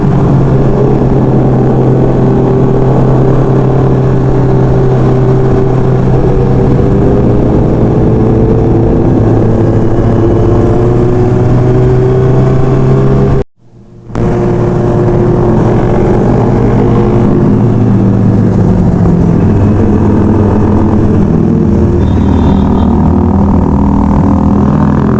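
Kawasaki big bikes, including a Z900, ride together with a club group, their engines a loud, steady droning roar with slowly shifting pitch. The sound cuts out briefly midway, then returns with rushing wind.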